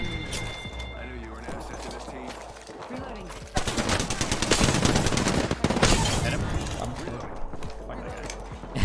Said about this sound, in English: They both shot me.